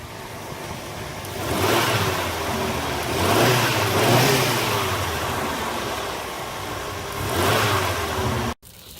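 A 1984 Mercury car engine that had sat unused for three months runs close by, revving in several rising and falling swells over a steady idle before cutting off abruptly near the end.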